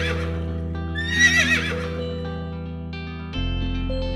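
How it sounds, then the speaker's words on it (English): A horse gives a loud, shrill whinny in the middle of the clip, set against a sustained musical backing, with no talking. "H for horse"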